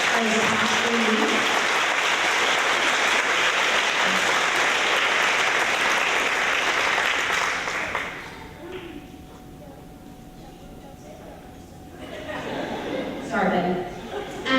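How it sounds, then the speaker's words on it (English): Audience applause at a school fourth grade awards ceremony, a dense steady wash of clapping for about eight seconds that then dies away into quieter room sound and some talking. "So let's give him a round of applause for his top reading."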